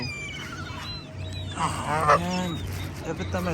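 Geese honking close by while being fed bread, several harsh, overlapping honks and calls that grow busier midway, with a person speaking faintly underneath.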